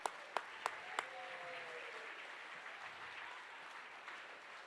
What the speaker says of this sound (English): Can we please get a round of applause for everybody that supported us so far?